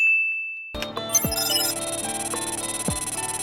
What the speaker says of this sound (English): Files popping up sound effect helps us to know that files are popping up.